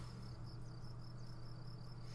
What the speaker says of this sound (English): Might be crickets. Now that I'm stopping to actually listen to them.